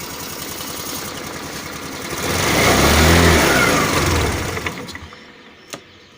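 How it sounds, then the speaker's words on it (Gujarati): A Hero Maestro scooter engine idles and is revved up, swelling to a loud close whine before dropping back and cutting out, ending in a couple of sharp clicks. "હવે આપણે એને રેસ કરીને ચેક કરીશું કે શું થાય છે"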